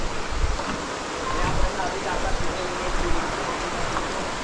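Rushing water from a strong current in a river branch, a broad steady wash of noise with gusty wind buffeting, heard close while people talk now and then.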